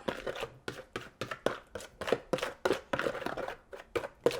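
Apple pie filling being mixed with sugar in a bowl: a steady run of close, fairly loud wet thuds and scrapes in an irregular rhythm, with no talking.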